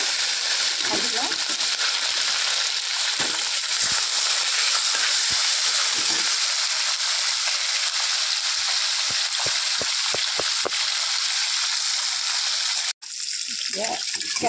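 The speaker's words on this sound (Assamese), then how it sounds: "তেলটো বহুত গৰম হৈ গ'ল, এতিয়া মাছখিনি মই ভাজি লওঁ।" Pieces of rohu fish frying in very hot oil in a kerahi, a steady loud broadband sizzle running throughout with faint clinks, briefly cut off near the end before resuming.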